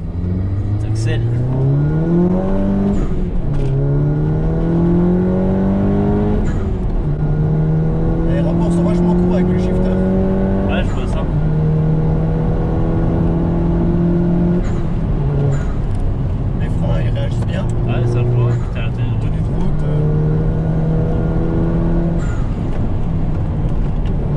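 A second-generation Audi TT TFSI engine on a road test revs repeatedly, pitch climbing through the gears and dropping between shifts, close and steady, with occasional talk over it.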